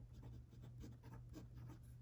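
A fountain pen with a stock nib scratches across paper in quiet, short strokes, soft and close against a faint background hum.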